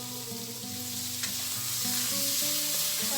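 Pork sautés in a pan toward golden brown, a continuous loud sizzle under a faint tonal hum, with one sharp stir or scrape near the middle and no voices.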